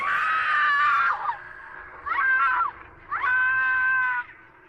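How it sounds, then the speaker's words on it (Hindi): A woman's high, wailing screams set in a foggy horror scene, three drawn-out cries separated by short pauses, loud and alone with no talk over them. "तभी एक बार फिर से उस औरत की चीखें हमारे कानों में पड़ी"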